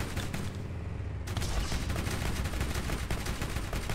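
Dense, continuous gunfire in the Borderlands video game, a loud rapid barrage that never lets up over the whole stretch.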